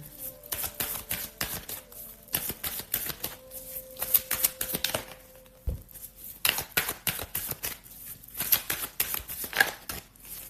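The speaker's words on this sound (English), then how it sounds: "I'm going to draw a couple of clarification cards" Tarot cards shuffled by hand, a rapid irregular series of close riffling slaps and flicks with short gaps, no talking.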